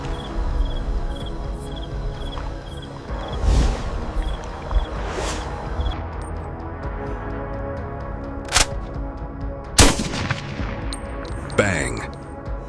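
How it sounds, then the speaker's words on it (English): Rifle shots crack in a misty swamp, with several sharp reports spread across the stretch amid a constant insect and cricket drone, fairly faint overall. "The rifle cracks"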